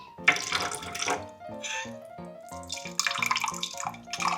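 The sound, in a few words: water poured into beef curry pot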